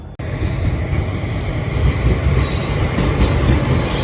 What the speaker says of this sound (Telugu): అటు సైడ్ నుంచి ఒక ట్రైన్ వస్తుంది, మనకి క్రాసింగ్ పడింది